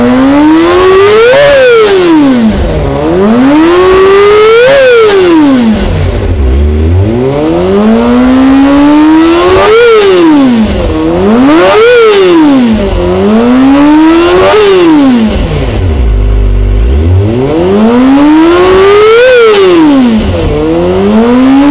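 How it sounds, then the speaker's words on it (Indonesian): A Kawasaki ZX25RR fitted with a Yoshimura R77 carbon exhaust revs hard and repeatedly, each loud high-pitched wail climbing and falling in long sweeps, very close and alone. "segitulah cuplikan dari suara knalpot Yoshimura R77"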